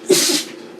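A single sharp, explosive sneeze up close, bursting out loudly and then trailing off into a breathy hiss.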